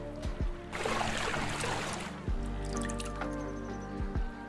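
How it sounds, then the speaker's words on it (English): Video game character washing in a river, with soft wet splashes and drips, a few distinct sloshing bursts and a burble of running water, moderately close and fairly quiet. "I'm just washing myself as God intended."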